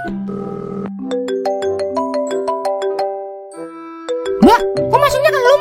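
A phone ringtone plays a bright, stepped melody of chiming tones for several seconds, ending in a warbling electronic jingle, clear and close with no talk over it.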